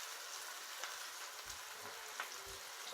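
Onion and garlic frying in a pan, a faint, steady sizzle with light hiss and occasional soft stirring bumps, heard alone.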